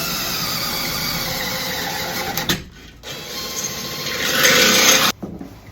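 A power drill bores a hole through a plastic taillight on a second-generation Toyota Tacoma, a steady whining, rasping grind that cuts out twice, with a louder, harsher burst near the end.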